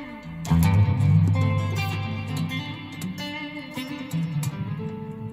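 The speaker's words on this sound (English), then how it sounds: "Then there's a plate type sound." An electric guitar played through a Big Top Juggler reverb pedal on its plate setting: distorted chords with a lush, smooth tail that blooms and lingers, fairly loud and alone.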